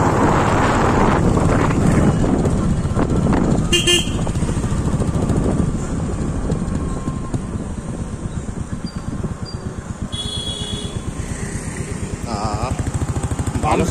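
Heavy wind buffets the microphone from the pillion seat of a moving Royal Enfield Meteor motorcycle, its engine rumbling continuously underneath, with a few short horn-like tones.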